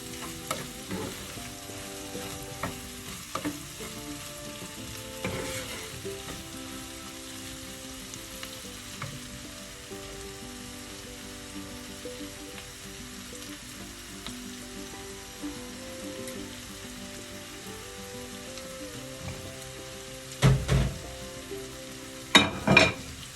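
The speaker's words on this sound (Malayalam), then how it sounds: "നന്നായി ഇളക്കി" Ivy gourd stir-fry, salted and being stirred in a pan, sizzles and fries steadily with soft scraping stirs throughout and a couple of louder clanks near the end.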